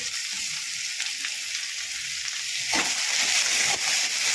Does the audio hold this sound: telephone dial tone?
no